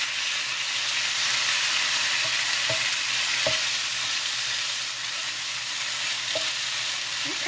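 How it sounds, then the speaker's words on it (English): Pickle or olive juice deglazing a hot frying pan gives a steady, loud sizzle and hiss that runs the whole time, with a few faint utensil clicks and scrapes. "So I'm going to deglaze the pan with a little bit more of that pickle juice, or the olive juice."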